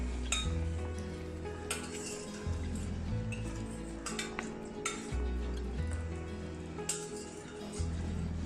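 Cooked mutton turned in sizzling masala in a pan for mutton salna; a spoon scrapes and clinks against the metal in steady strokes over a continuous close frying sizzle, with no voices.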